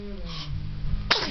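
A baby lets out a single short, sharp sneeze close to the microphone near the end of a quiet moment.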